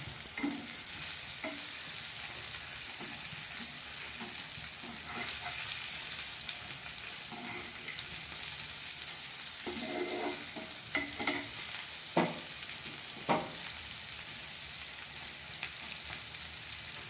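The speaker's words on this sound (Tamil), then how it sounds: "இப்போ திறந்தே ஃப்ரை பண்ணலாம் சிம்மில் வச்சுக்கலாம்" Spicy brinjal shallow-fries in oil in an open pan over a low flame: a soft, constant sizzle broken by repeated stirring scrapes and clicks.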